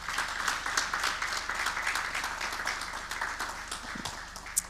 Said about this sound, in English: Please do give her a hand of applause.